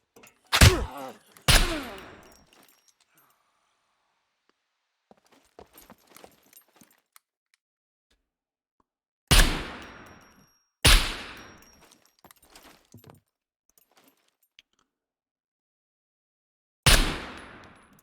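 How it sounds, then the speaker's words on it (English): Shooting in the survival video game SCUM: five loud, sharp gunshots in separated clusters, two near the start, two more around the middle and one at the end, each with a decaying echo, with faint clicks and handling noises in the quiet gaps. "It was far too much shooting"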